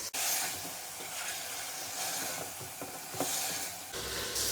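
Chicken fries in a pot with salt and sugar for Afghani pulao, making a soft but steady sizzle with light scraping and stirring sounds throughout.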